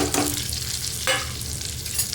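Masala stir-fried in a pan for Maharashtrian stuffed brinjal (khar vanga), a steady soft sizzle with two brief louder scraping stirs, close and alone.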